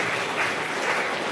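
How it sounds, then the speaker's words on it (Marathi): A school audience at an Independence Day event applauds continuously, a dense wash of many hands clapping at close range with no pauses for the whole stretch. "सगळ्यांनी एकदा त्यांच्यासाठी टाळ्या वाजवाव्या."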